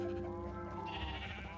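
Sheep bleating in a farm video game at a sandy beach level, a loud close wavering bleat running through the whole moment over a steady background game tone.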